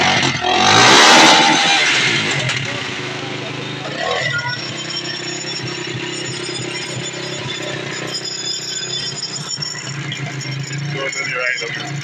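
A 250cc motorcycle engine, running without a muffler after a rebuild, roars loudly near at hand with a rev swell early on, then settles into a steady rough drone, with voices talking over it.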